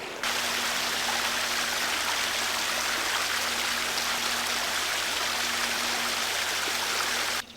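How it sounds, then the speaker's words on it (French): Water flows steadily along a small inlet canal toward water wheels at a plant-filtration site on Lake Kasumigaura near Tsukuba, Japan, making a constant, close rushing wash with no pauses. "L'arrivée d'eau qui suit le petit canal qu'on voit devant nous pour se rendre aux roues à eau."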